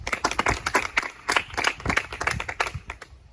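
Clapping hands patter in quick uneven bursts from a small group, close and fairly light, with no voices over it.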